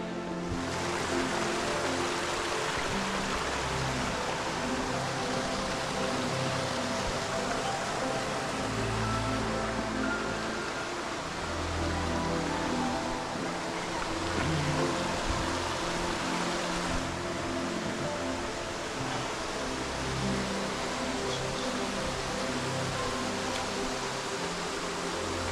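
Steady rushing water roars continuously at Gordale Scar, a dense even wash of white noise with no voices, like a waterfall heard from nearby.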